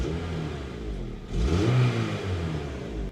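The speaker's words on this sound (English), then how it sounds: "another thing I do dislike about the K20 is how flat they sound stock." A Honda Civic Type R's K20 engine with stock exhaust revs up, rising in pitch to a flat, steady drone before easing off; no voices.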